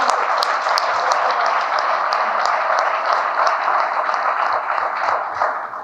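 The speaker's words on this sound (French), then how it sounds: "Félix Antoine Tshisekedi Tshilombo, que je vous prie d'applaudir en même temps." Audience at a political party rally in the Democratic Republic of Congo applauding steadily, a dense, continuous wash of many hands clapping with scattered sharper claps, sustained evenly throughout.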